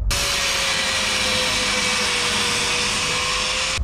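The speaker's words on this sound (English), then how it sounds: "I think it's time to get the angle grinder out and fuck some shit up" An angle grinder screams continuously at close range, cutting parts out of a stripped Nissan 370Z with a loud, steady, high-pitched whine.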